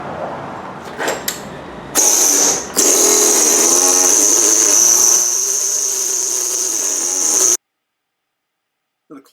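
A power claw chisel carves a stone block: after a few short taps, a loud, steady high-pitched pneumatic buzz runs for about six seconds with one brief break, then cuts off into silence.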